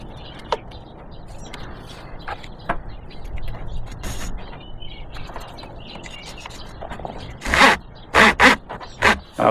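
A ratchet strap is tightened around a vehicle roll bar, with a burst of several sharp, loud ratcheting clicks near the end after quieter handling noises. The sounds are close and there is no talking.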